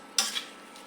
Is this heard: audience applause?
no